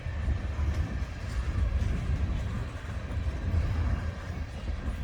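A Union Pacific freight train rolls past at Wheelon, Utah on the Ogden Subdivision, a steady low rumble of rail cars running continuously and fairly close, with no break in the noise.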